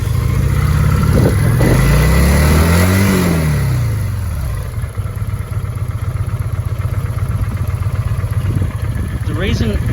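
A 2005 Kawasaki Vulcan VN800 motorcycle, just jump-started from a car, revs loudly up and down close by, then drops to a rough, uneven idle that nearly stalls before another brief rev, with someone talking over it.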